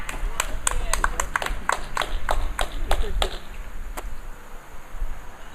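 Sharp, separate claps ring out in a loose rhythm from a crowd at an outdoor Labour party political meeting, then thin out to a few stragglers and fade, with a voice talking underneath.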